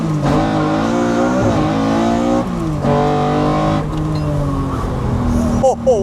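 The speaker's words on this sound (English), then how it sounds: "This is gonna be serious induction noise here." A tuned car at a Miami tuner dealership accelerates hard, its loud induction roar rising and falling through several gear changes, heard close from inside the cabin with a sharp burble near the end.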